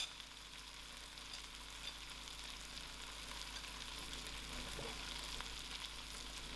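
Lamb meat frying in a pan with Chinese five-spice and chili powder, a steady close sizzle that holds evenly throughout with no voices.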